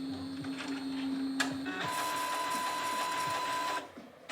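A Uninet DTF1000 DTF printer running its head cleaning cycle: a steady whirring pump tone, a sharp click, then a louder mechanical drone with a high whine that stops abruptly near the end, close up.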